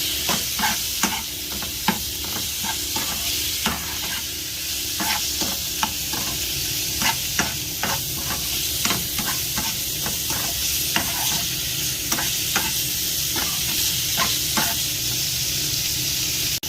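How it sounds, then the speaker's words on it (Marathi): Chicken coated in masala sautéing in a pan, a steady sizzling hiss broken by repeated scraping stir strokes at an irregular rhythm, close and fairly loud, with no talking. "व्यवस्थित सगळीकडं परतवून घ्यायचा की मसाला चांगला चिकनमध्ये लागला पाहिजे"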